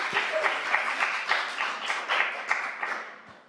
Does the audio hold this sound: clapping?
yes